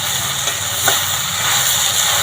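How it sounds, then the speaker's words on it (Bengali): Pieces of elephant apple (chalta) sizzle loudly in hot oil as they are stirred, giving a dense, steady frying hiss close by with a few faint scraping touches and no talk. "কত সুন্দর তেলে তেলে নাড়া হয়ে গেছে চালটাগুলো"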